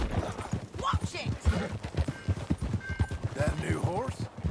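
Horse hooves clip-clop steadily during riding in the video game Red Dead Redemption 2, a close, rhythmic trot with a brief whinny, while characters talk over it.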